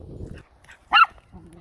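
A dog gives a single sharp bark during a walk in Harwood Forest in Northumberland, a short close yap standing out against a quiet woodland background.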